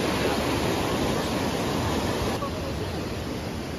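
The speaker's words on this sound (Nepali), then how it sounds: "बरुन खोला यही हो।" The Barun river rushing along the trail to Makalu base camp, a loud, constant roar of fast water that fills the whole clip.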